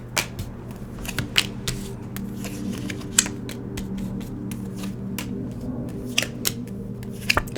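Tarot cards shuffled by hand at close range, a run of crisp riffling flicks and sharp slaps over a low steady background hum, no talking.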